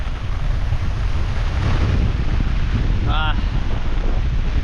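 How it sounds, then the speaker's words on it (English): Gusty Cyclone Jasper wind buffets the microphone with a loud, continuous broadband roar that swells slightly in the middle, and a brief voice sounds near the end. "the wind's just picked up again. Another gust of wind coming through."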